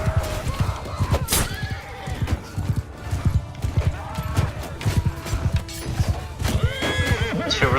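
Horses in a Mount and Blade II: Bannerlord battle neigh and whinny loudly over rapid galloping hoofbeats, with clashing combat noise and a busy, dense mix throughout.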